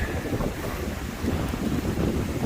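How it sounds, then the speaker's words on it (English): Breezy wind buffets the microphone beside a river on the Appalachian Trail, a loud continuous rumbling gust with no voices. "Oh my gosh, it is breezy."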